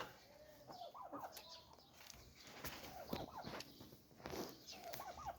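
Turkeys cluck and gobble in soft, irregular bursts on a poultry farm, with light rustling and shuffling in a noisy outdoor setting.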